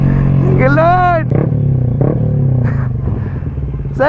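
A Kawasaki ZX-10R sportbike revs loudly close by, its engine note rising and falling in short surges over a steady rumble, while people talk excitedly over it.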